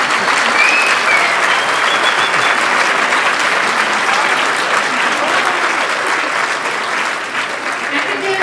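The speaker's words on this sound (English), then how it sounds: "would you stand so we can applaud you as well?" Audience applauding at a high school AP ceremony, dense sustained clapping from a large crowd that stays loud and steady before easing slightly near the end.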